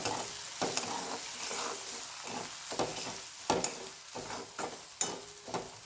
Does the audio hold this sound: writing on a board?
no